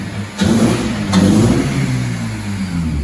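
Honda Civic Type R FN2 engine on a dyno, revving up in two rising pulls with a sustained mid-pitched drone that lingers and holds steady through the short stretch, loud and close.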